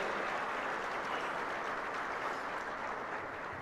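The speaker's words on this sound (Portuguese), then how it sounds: "Dê para Jesus uma forte salva de palmas" Steady, dense applause from a church congregation fills the space continuously, loud and even throughout with no voices rising above the clapping.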